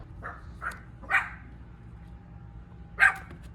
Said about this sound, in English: Puppies! Hi, puppies!